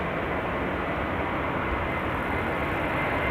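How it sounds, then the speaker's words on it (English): An Airbus A330 airliner pulls up at Amsterdam Schiphol Airport, its engines giving a steady, broad roar that holds constant throughout without pause. "A330 that is pulling up."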